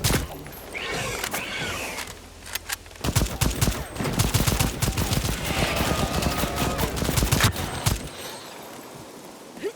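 Rapid gunfire in the game Second Extinction: dense, sharp shots crackle in quick succession for several seconds, loud and close, then cut off abruptly into quiet.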